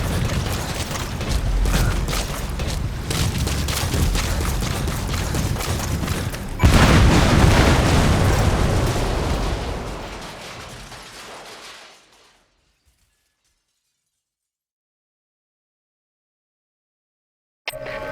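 A C4 charge blows up a separator tank in Metal Gear Solid V, a loud sustained blast with crackling debris and rumble that swells, then fades into near silence.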